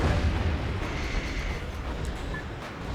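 Shotgun fire and exploding spider robots in the video game Metal Wolf Chaos form a dense, continuous rumble of blasts and booms, loud and close, with no clear gaps between them.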